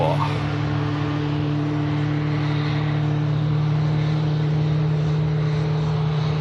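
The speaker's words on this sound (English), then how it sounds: "Nice loud engine start there on the Scandinavian A320neo as she gets ready to take off." A Scandinavian Airbus A320neo spools up its engines before takeoff, a loud, steady droning whine with a constant low hum held throughout.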